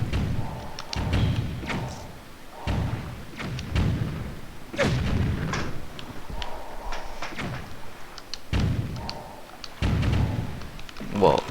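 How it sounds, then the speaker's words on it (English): A ship's cannon fires repeatedly in The Legend of Zelda: The Wind Waker while sailing near the Ghost Ship. Deep thuds and booms come at a steady rhythm, with a voice talking over much of it. "Let's fire our cannon."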